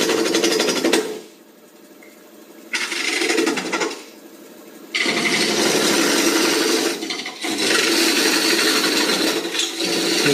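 A wood lathe turns an offset bowl while a tool cuts its cavity, producing loud scraping, rasping bursts that stop and restart several times in close succession.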